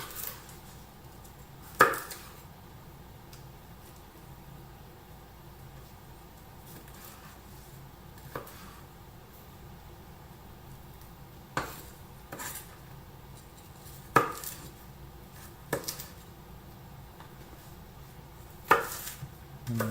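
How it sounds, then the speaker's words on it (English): A knife cuts through cabbage on a board, sounding as sparse, soft, close thuds and crisp chops spaced several seconds apart against a quiet background. "And then just kind of chop up the cabbage into smaller pieces."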